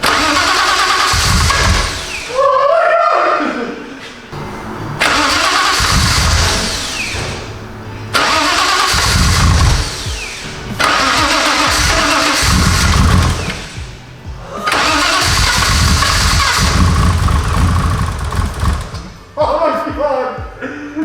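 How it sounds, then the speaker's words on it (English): RB28 engine in a Nissan GT-R on its first start, cranking in several long loud bursts with stumbling catches and short pauses between, people talking in the gaps. "This is a potential first start moment."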